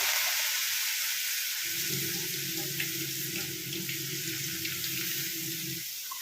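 Cold water poured into a pan for Maggi noodles on a gas stove, a steady running, sizzling pour that begins after a short pause and continues for about four seconds before stopping, with no talking.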